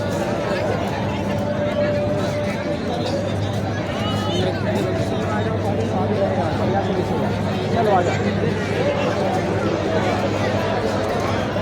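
A dense, loud crowd at an army event in Jaipur keeps up a continuous babble of many overlapping voices, with no single voice standing out.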